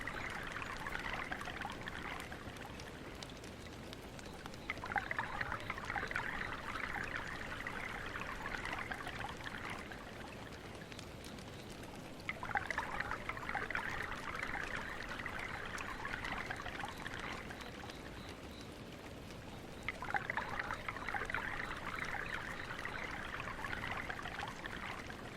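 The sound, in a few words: water sounds, pouring and trickling water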